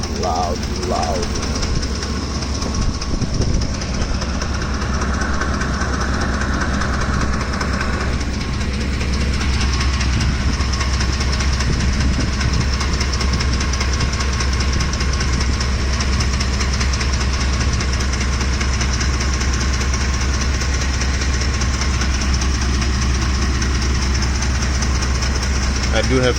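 Loud, steady engine noise from a hot truck engine knocking, with a suspected timing chain fault, running continuously and close throughout with a dense low rumble and rattling texture.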